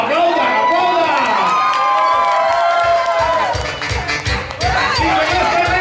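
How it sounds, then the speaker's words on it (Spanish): An audience at a Costa Rican radio karaoke show cheers, whoops and shouts loudly, with a rhythmic thumping underneath and talk mixed in. "¡Aplaudan, aplaudan!"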